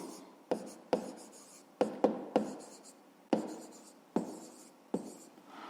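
A pen writes by hand on paper while a fifth-grade maths exercise is being solved. Close, crisp strokes come in a series of about nine separate scratches with short pauses between them, and no one speaks.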